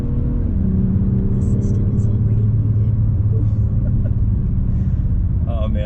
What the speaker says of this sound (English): M340i, heck of a car here on the racetrack.